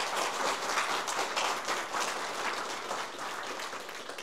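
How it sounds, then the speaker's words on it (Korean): Audience at a political rally in Gwangju applauding a campaign speech, a dense sustained wash of many hands clapping at moderate distance, continuing without pause. "박수를 부탁드립니다"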